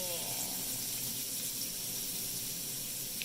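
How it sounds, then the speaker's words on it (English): Hot water runs from a kitchen tap over fruit being softened for a smoothie, a steady close hiss of flowing water that holds evenly throughout without a break. "Then just gonna run it under hot water to make it less hard."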